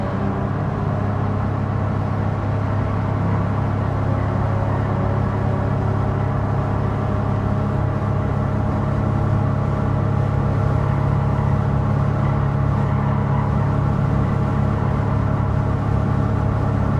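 Slow, underpowered Nissan Rogue-like SUV driven in Gran Turismo 7, a steady low engine drone and road rumble held at a constant level throughout with no distinct revving or shifts.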